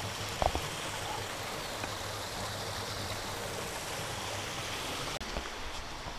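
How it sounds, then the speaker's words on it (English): A small river running down to a clean beach on the Scottish coast, a steady, soft rushing of water flowing continuously at low level with no other notable sounds. "Bit of a river coming down here"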